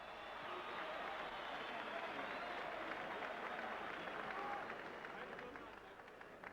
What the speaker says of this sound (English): Let's have a big round of applause for Welcome Incl.